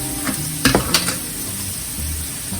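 Chicken liver hits a hot pan with a steady close sizzle, broken by a few sharp clinks and scrapes of a utensil against the cookware.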